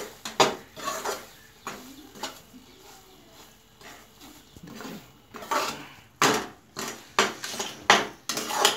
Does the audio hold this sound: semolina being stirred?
yes